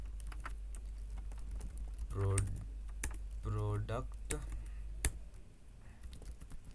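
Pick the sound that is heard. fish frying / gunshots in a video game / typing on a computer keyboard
typing on a computer keyboard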